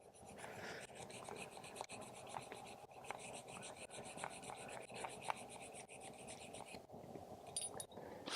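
A brush scrubs dust out of a hole drilled in rock for a glue-in bolt, giving quiet, repeated scratchy strokes in a steady back-and-forth rhythm, close by and faint.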